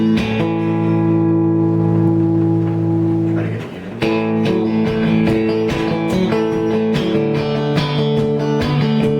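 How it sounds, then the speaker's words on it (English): An electric guitar played through a Bearhug FET compressor on its lowest setting, with sustained chords ringing out, a short dip near the middle, then a run of picked, strummed notes, loud and close with no talking. "And here's with the compressor on the lowest setting."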